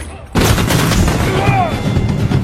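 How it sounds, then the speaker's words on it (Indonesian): Loud burst of gunfire in an action film scene, a sharp blast followed by a dense rumbling barrage with ringing echoes, continuous and close throughout. "Chris pun langsung mengambil tindakan dengan menembak orang tersebut dan juga si suami yang mencoba melawan."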